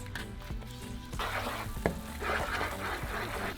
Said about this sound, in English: now we're going to add our garlic and onion. And we're going to cook that for 4 minutes.